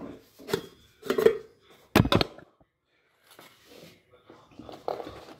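A knife chops vegetables in a home kitchen in a few separate bursts of rapid sharp taps against a board, with quiet gaps and low talk in between.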